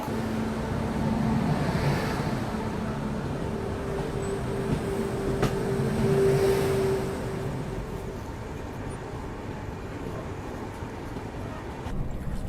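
A train runs along an Indian railway line near a signal, a steady rumbling roar of wheels on track with a faint tonal hum, moderately loud and continuous, no talking.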